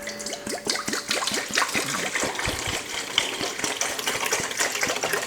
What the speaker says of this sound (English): I'm going to take this sanitizer and pour it in my bowl